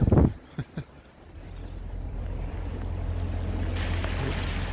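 Electric boat running under full power on the Ribble Link canal, a steady low engine drone and water rush building and holding after a few brief knocks at the start.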